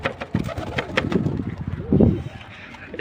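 Domestic pigeons coo softly and repeatedly at close range in a loft, with a voice calling to them in between the low throaty calls.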